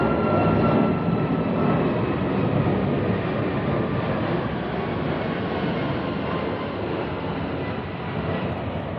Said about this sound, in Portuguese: 1 minuto que o avião vai passar, de novo.